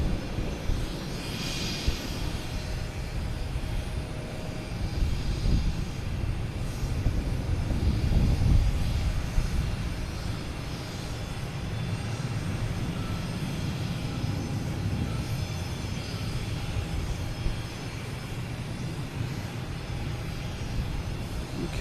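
A Boeing 737-900 airliner on flight 721 to Washington, D.C., rumbles at Boston Logan with a continuous, moderately loud engine roar that swells gently around the middle, with no voices.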